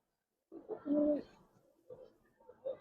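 Pigeons, including Giribaz and colored breeds, coo in a loft in a few soft, close bursts, with one throaty coo standing out before quieter calls follow.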